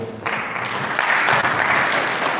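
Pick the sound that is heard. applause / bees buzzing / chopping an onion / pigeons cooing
applause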